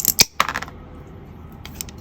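Montolit tile nippers snap ceramic tile in a couple of sharp, close cracks with a small clink after them, then quiet, with one more faint tick near the end.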